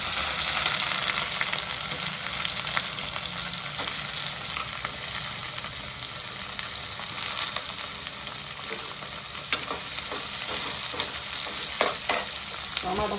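Onions with green chillies fry steadily in a pan for an egg curry, a continuous broadband sizzle with occasional stirring scrapes, close and fairly loud throughout without talk.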